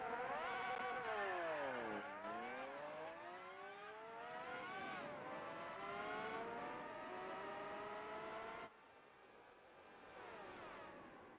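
Race car engine in Gran Turismo 4, a non-Formula 1 car running a Formula 1 championship race, revving loud and steady with rising and falling gear-change sweeps, then dropping quieter near the end.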